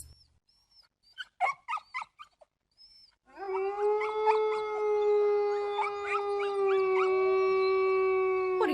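A wolf lets out a long, sustained, rising howl that fills the second half, preceded by short yips and whimpers, loud and close with no talk.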